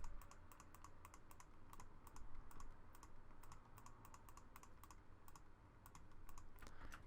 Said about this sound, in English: hit Control C and Control V on that